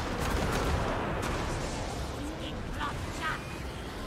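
Gunfire and battle noise from Total War: Warhammer 3 form a steady, dense wash of shots and rumble. Faint voices sit underneath it throughout.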